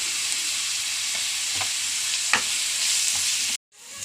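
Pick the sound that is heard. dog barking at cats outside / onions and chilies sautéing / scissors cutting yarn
onions and chilies sautéing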